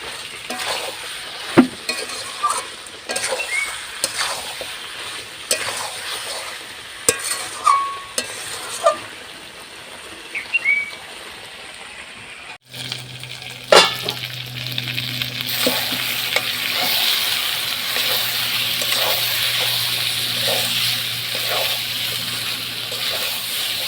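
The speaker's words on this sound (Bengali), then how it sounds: "এবার আমি ভেজে রাখা আলু দিয়ে দেবো। আর একটু ভালোভাবে কষিয়ে নেব।" Fried potatoes are sautéed in mutton curry with a loud, continuous sizzle and repeated scraping stirs. Partway through there is a sharp change, after which the frying turns denser and fuller.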